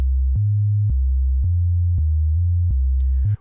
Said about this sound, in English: if we have this FM all the way off here, and it's just a sine wave, it's going to sound like this